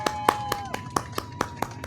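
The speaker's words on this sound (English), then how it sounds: "Clapping." Sharp, evenly spaced claps ring out about eight times in a steady beat, as passengers on a United Airlines inaugural flight to Dominica applaud, with a sustained tone humming underneath.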